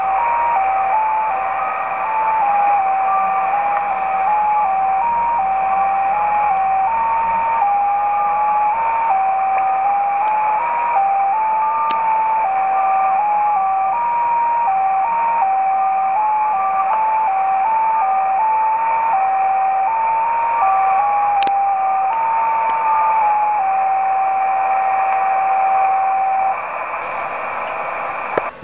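JT65 digital mode tones received on a Yaesu FT817ND radio: a faint sequence of shifting single-pitch beeps stepping up and down, sitting under steady radio hiss and static for nearly half a minute, with no voices.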